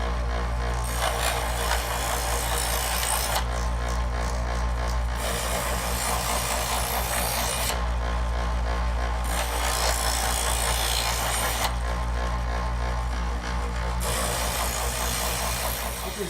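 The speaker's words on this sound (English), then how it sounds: "I'm going to turn the power on and pass it through 5 times on each side in setting 3." An electric knife sharpener hums steadily and loudly for the whole stretch, with a rasping grind as a knife blade is drawn through its slots in several repeated passes, separated by brief quieter gaps.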